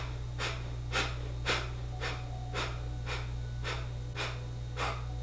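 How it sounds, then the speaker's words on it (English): Quick, sharp breath of fire bursts during a yoga workout, about ten rhythmic forceful exhales in roughly five seconds, close and clear over a low steady hum. "I'm going to start our breath of fire. Inhale, exhale, inhale, pump the navel."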